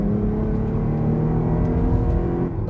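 The V6 engine of a Jeep Grand Cherokee L pulls uphill in a loud, steady drone with a sustained low growl and a slight dip in level near the end.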